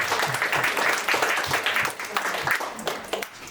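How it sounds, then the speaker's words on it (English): Warm applause from a concert audience at an evening of ghazal and Sufi music, a dense patter of many hands with some voices mixed in, fading slightly toward the end. "I think we should have a huge round of applause."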